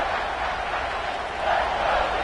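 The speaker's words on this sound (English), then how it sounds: "This crowd knows they have to bring it in big moments" Stadium crowd noise in the college football video game NCAA 26, a steady, dense roar that swells slightly partway through, heard alone without commentary.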